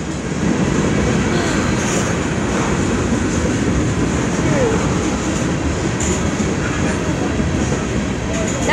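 A freight train led by a Cotton Belt SSW locomotive rumbles past at steady volume, with a continuous rolling roar of wheels and cars and occasional higher squeals; soft talk can be heard faintly beneath.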